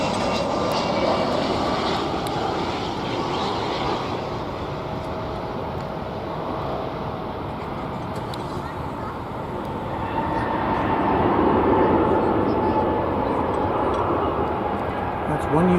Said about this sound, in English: That's one UPS cargo plane landing.